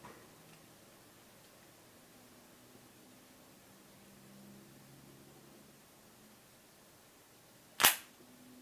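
A cigar cutter snaps once through the cap of a Caldwell Eastern Standard Sungrown cigar, a single sharp, close click near the end after quiet room tone.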